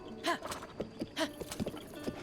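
Horse hooves clip-clop at a steady trot in The Legend of Zelda: Breath of the Wild, near Hateno Village. The beats are fairly quiet and regular, with game music and a faint voice underneath.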